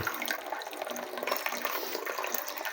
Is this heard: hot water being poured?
yes